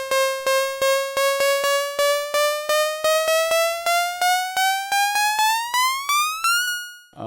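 Synth riser from the Massive soft synth with release added to its volume envelope: a rapid train of repeated bright pulses climbing slowly in pitch over about seven seconds, each note decaying briefly, then cutting off.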